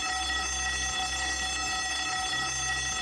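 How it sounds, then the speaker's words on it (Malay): Building emergency evacuation alarm at the World Trade Center Kuala Lumpur, a loud, steady electronic tone with a pulsing low buzz that repeats in regular cycles, filling the space with no voices over it. "If you hear this alarm"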